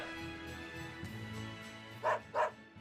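A dog in the Tales of Berseria video game gives two short barks in quick succession over quiet game music and ambience.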